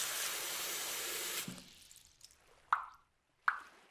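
Water rushes from a tap in a steady hissing gush that stops abruptly, followed by a few isolated plops and drips in near silence.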